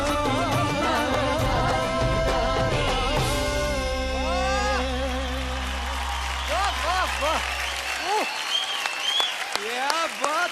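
Applause from a singing-competition studio audience and judges, building under a lingering sung melody and musical backing that drops out near the end, leaving clapping with scattered vocal exclamations.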